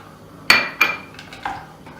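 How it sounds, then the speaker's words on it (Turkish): A spoon stirs dark chocolate and margarine melting in a pot for brownies, giving a few sharp metallic clinks and scrapes against the pot, spaced irregularly and close up. "Eriyene kadar karıştırıyorum"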